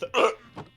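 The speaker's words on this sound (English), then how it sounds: "third time today I've had hiccups too." A single sharp human hiccup, close and abrupt, followed by a softer trailing breathy catch.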